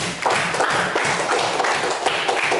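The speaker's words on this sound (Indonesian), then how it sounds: "Tepuk tangan." A school class claps hands together in a dense, steady burst of many overlapping claps filling the room for a couple of seconds, with no talking over it.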